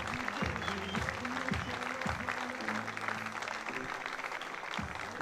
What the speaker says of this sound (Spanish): Démosle un aplausito